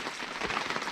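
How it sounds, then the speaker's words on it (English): Rain dripping and pattering outdoors at a haunted house build site, a brief, dense, soft hiss of drops on a surface. "Shout out to the rain."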